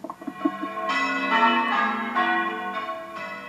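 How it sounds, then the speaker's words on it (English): Church bells ringing loudly for a coronation, a few separate strikes at first, then overlapping peals that blend into a sustained, resonant clang. "The unmistakable sound of church bells has been part of the soundscape across towns and cities for centuries."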